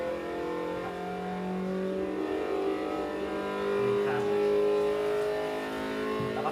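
A race car on a track holds a strong, harmonic engine note that shifts pitch as it brakes and downshifts to third gear, then swells louder as it accelerates, with brief bumps and scuffs mid-run.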